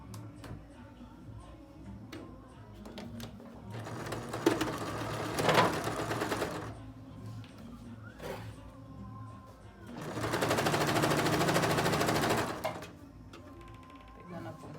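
Sewing machine stitching a child's jacket in two bursts of fast rattling, separated by quiet handling noises, with someone speaking softly between runs.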